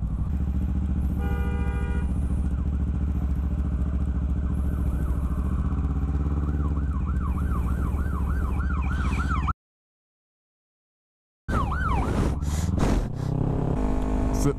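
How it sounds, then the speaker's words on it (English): An ambulance siren wails in rising and falling sweeps on a busy road over loud, steady engine and traffic rumble, cutting out briefly before the siren returns near and strong. "she literally just wanted everybody to pull out in front of an ambulance"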